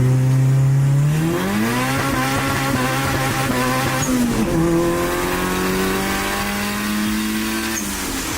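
A car with a worn transmission whose synchros grind on every shift, engine revving loudly and climbing in pitch, dropping briefly at each gear change before pulling hard again, close and continuous.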